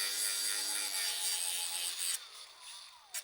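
Steady close rasping of sanding a plastic choke lever from a Husqvarna 525, continuous for a few seconds before easing off.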